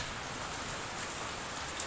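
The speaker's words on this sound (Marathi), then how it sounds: "मागं खूप जास्त पाऊस आहे." Steady, dense rain pours down, a continuous broadband hiss with no pauses, fairly close and loud.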